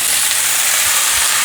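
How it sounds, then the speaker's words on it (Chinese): Burdock strips stir-fried with mushrooms in a large pan give a steady, loud sizzle and hiss that runs unbroken close by, with only a faint low rumble beneath. "放入牛蒡丝"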